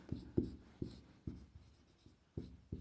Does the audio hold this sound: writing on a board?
yes